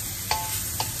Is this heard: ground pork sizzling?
yes